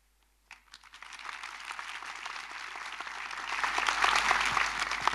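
At a Turkic World theatre days ceremony in Turkey, an audience starts clapping for a guest called to the stage, a few scattered claps at first, then swelling into loud, sustained applause from a full hall.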